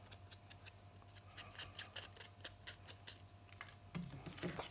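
Scissors trimming the white paper ends for a mini album, a quiet run of quick, regular snipping clicks close by in a still room, ending in a few louder rustles.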